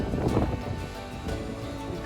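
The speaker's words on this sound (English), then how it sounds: "This is how the waves are crashing against the walls here." In strong wind at a harbour in Taranto, Italy, sea waves surge and wash against the walls in a continuous broadband roar, with blustery wind noise and no voices.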